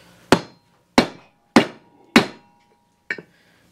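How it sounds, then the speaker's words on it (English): A hammer strikes a socket four times in an even rhythm, then once more lightly, driving a new seal into a 10 HP Briggs and Stratton engine during a rebuild. The blows are sharp and close, with ringing metallic decays. "You pound it in."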